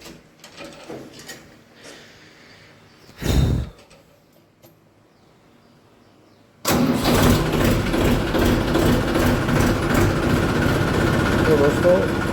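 Tractor engine cranking and catching after a tight start with the hydraulic valve closed, then settling into a loud, steady diesel idle close by; brief mechanical clunks and a voice come before it fires.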